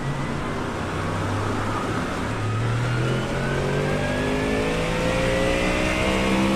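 A Ford Mustang GT3 race car in a racing video game howls through its gears at Daytona in the rain at night. The loud engine note climbs steadily in pitch as it revs hard, close and continuous with no talk.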